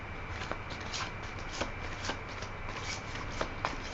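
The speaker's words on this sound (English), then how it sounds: "I'm going to pull a Nostradamus card for you." Tarot cards shuffled by hand during a reading, a quick run of soft papery riffles and slaps repeating in irregular bursts, close and clear with no talking.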